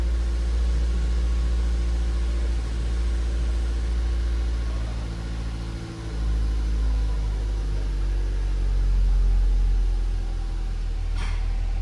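Van engine idling after a fuel pump install, its hunting idle a loud steady low rumble that dips and swells in level, with no talk over it.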